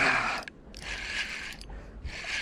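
Fishing reel drag on a loose setting ticking as line is pulled out by a hooked fish on a river, a steady buzzing click run broken by short pauses, close and fairly loud with no talk.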